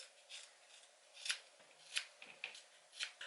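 Scissors snipping braids out of hair, a handful of crisp, close metallic cuts at irregular intervals, quiet and without speech.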